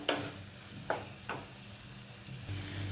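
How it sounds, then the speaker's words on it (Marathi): Onion-tomato masala with ginger-garlic paste, curry leaves and spices sautéed in oil, a low steady sizzle broken by a few sharp scrapes of a spoon against the pan, close and fairly quiet. "हे व्यवस्थित परतून घ्यायचं आहे आपल्याला, बाजूला तेल सुटेपर्यंत परतून घ्यायचं।"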